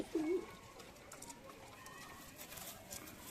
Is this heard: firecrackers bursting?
no